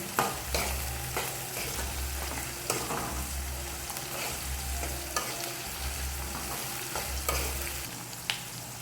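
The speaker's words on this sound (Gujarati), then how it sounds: "ડુંગળી સતરાઈ જાય હવે હલાવી નાખીએ." Chopped onions sautéing in a pan for masala dosa filling, a constant sizzle with repeated scraping strokes of a spoon stirring at a steady rhythm, close and clear with no speech.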